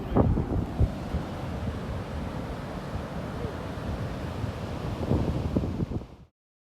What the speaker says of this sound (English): First beach, Tarkarli beach, so beautiful